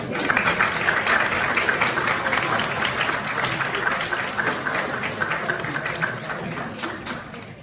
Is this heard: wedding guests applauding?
yes